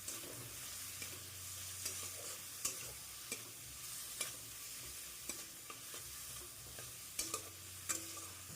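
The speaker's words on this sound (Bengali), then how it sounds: "চিকেনটা দিয়েও কিছুক্ষণ ফ্রাই করে নেব।" Chicken pieces fry in a pan for a Bengali-style chicken garlic rice, giving a steady soft sizzle with irregular scraping taps from stirring, close and alone.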